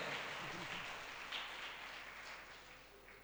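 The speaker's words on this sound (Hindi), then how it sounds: "तालियां बड़ी कमजोर है" Thin, weak applause from an audience at a Ram Katha religious discourse, a soft continuous patter of clapping that gradually fades, heard faintly and alone.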